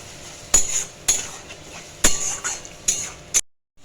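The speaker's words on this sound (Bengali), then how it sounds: "মশলাটাকে আমি লাল লাল করে ভাজবো, মশলাটা ভাজা ভাজা হোক।" Spice masala with tomato puree frying in a pan as it is stirred, heard mostly as five or six sharp metallic clinks of the spoon against the pan over a low, steady background hiss, with no talk.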